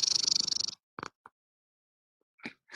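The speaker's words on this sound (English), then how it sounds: "You hear her purring?" A pet cat purring close to the microphone, a rapid rhythmic rattling purr lasting under a second, followed by silence and a few soft, brief sounds.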